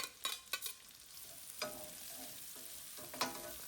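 Bay leaves and finely diced onion frying in a pan for a traditional Irish stew, with a soft steady sizzle and a few quick scraping stirs near the start and end; no talking.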